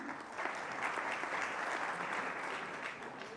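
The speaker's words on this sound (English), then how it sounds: "Not sure why you're clapping for me." Steady applause from an audience at a kosher food and wine festival, a dense wash of many hands clapping that holds at an even level throughout, with no speech over it.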